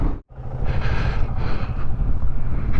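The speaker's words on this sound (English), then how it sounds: "Certainly is a bit breezy, I know that." Wind buffets a microphone outdoors in the Yorkshire Dales, a loud, rough low rumble that gusts and surges unevenly, briefly cutting out near the start before roaring on.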